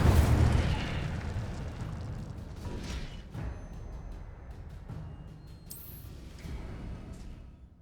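An Incendio fire spell cast in Hogwarts Legacy: a burst of flame opens loudly, then crackling and whooshing fire effects with small pops die away over several seconds.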